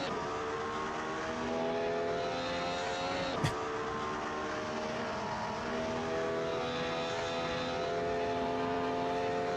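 Formula 3 race car engine droning steadily through a qualifying lap at Snetterton in a racing video game, a sustained buzzing whine with shifting pitch and a brief sharp click midway.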